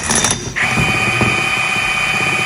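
A socket wrench turns the transmission rod on a John Deere D105 hydrostatic mower, giving close mechanical ratcheting clicks. A steady whine enters partway through and carries on beneath the clicking.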